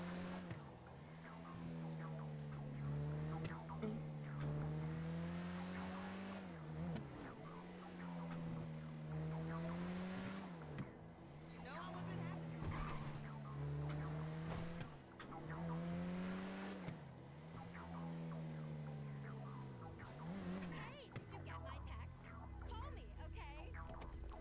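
A car engine in the video game Fortnite revs in repeated rising and falling sweeps, with tire skids and bumps as the car ends up upside down; a voice talks faintly underneath.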